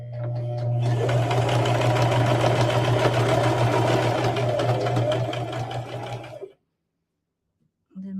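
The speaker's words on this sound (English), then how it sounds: "I'm just going to sew around the whole quilt, 1 inch seam." A sewing machine runs in one steady, loud stretch as it stitches a 1-inch seam around the edge of a rag quilt, then stops abruptly, leaving a short silence before a brief noise returns.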